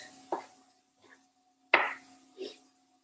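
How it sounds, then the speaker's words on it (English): A knife roughly slicing garlic on a cutting board in a home kitchen, a few separate soft, quiet chops with pauses between them over a faint background hum. "So I'm just going to slice roughly to start with."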